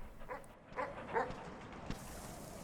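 A few soft, short yips from a pack of three dogs in the Animal Well video game, heard faintly amid a quiet, muffled game ambience.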